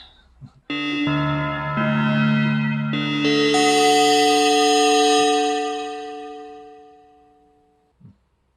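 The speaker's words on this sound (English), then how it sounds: "Everything sounds good with a bit of reverb on it though, doesn't it?" Metallic, bell-like ring-modulated tones from a Casio CZ-1 phase distortion synthesizer with clashing overtones, stepping through a few notes and swelling, then decaying slowly in a reverberant tail.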